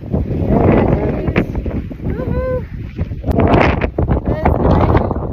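Strong wind buffets the microphone at Camp 4 high on Mount Everest, a loud gusting rumble that runs throughout beneath a person speaking.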